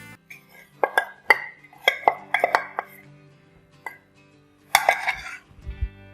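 A spoon scrapes and clinks against a metal pot while brown sugar is added to thickening kheer, a run of sharp, close metallic taps and knocks in irregular bursts with short pauses between.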